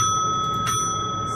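A bicycle bell rings with a bright, sustained metallic tone, clear and steady over low background rumble, with a couple of brief extra strikes.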